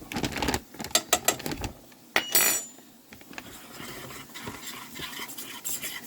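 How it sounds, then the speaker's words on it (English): A spoon scraping and clattering around a pan as a thickening mixture is stirred over medium heat, quick close clinks at first, then a softer, steadier scraping. "And it's still on medium heat, but since I'm stirring it, it'll be all right."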